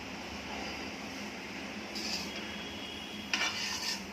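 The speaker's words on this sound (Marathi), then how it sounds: "गुळ व्यवस्थित विरघळून द्यायचा पूर्ण तोपर्यंत आपण हलवत राहायचं" Jaggery melts over low heat in a pan for modak while it is stirred, giving a soft, faint background hiss with a few light utensil scrapes and clinks near the end.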